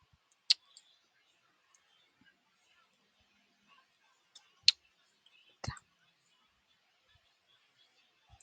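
A few sharp mouse clicks sound in a quiet room while someone works in a web portal. They come as three or four isolated, close, crisp clicks spread over several seconds of near silence.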